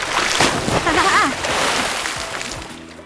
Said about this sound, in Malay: Ada ombak.